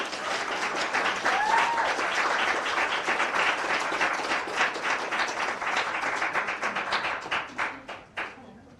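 Warm audience applause at a poetry slam as the next poet is welcomed, dense clapping that holds steady with a brief cheer, then thins into a few scattered individual claps fading out.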